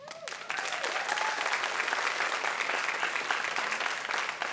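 An audience at a dance talk claps after a short opening sound, then holds a loud, dense, continuous applause that tapers slightly at the end.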